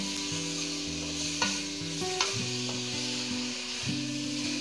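Pork sautéing with tomato, garlic and onions in a hot pan: a steady close sizzle and frying hiss, with a few sharp clicks of stirring, and no talking.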